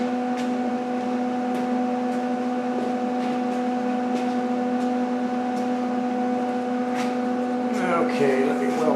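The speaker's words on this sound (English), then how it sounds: "it's really smoky, so I'm going to kick on our fans" Shop fans running to clear welding smoke in a workshop: a steady, droning hum with a constant tonal whine throughout, a few faint knocks and clatter near the end.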